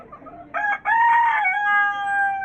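A rooster crows once, close and loud, a sustained, slightly wavering call lasting under two seconds, after a few soft clucks from hens in a yard on a sunny day. No voices.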